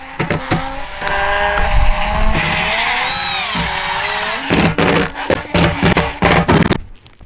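A power driver drives screws while assembling a YakAttack BlackPak Pro kayak crate, whirring in long, high-pitched runs, then stopping and starting in short bursts with clicks and handling noise in between.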